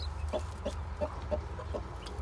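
Soft, repeated peeping calls from newly hatched chicks, about six short chirps at a steady pace over a low background hum.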